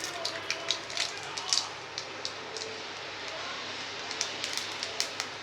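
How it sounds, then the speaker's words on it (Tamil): Mustard seeds and urad dal spluttering in hot sesame oil for coriander seed chutney, sharp irregular pops and crackles scattered over a soft sizzling hiss, close and moderately loud. "கடுகு பொரியவும்"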